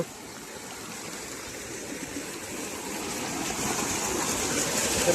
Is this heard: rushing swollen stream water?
yes